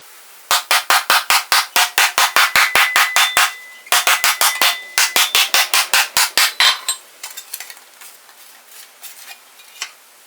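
Hammering an aluminum sheet for a Mazda Miata hardtop: a fast, even series of sharp metallic blows, loud and close, pausing briefly once, then thinning into scattered lighter taps.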